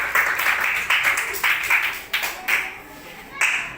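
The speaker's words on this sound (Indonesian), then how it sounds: "Kasih tepuk tangan semangat dulu." Scattered classroom clapping ahead of a group poetry reading, a few hands striking in loose, uneven bursts that swell and fade, fairly close and sparse rather than a full crowd.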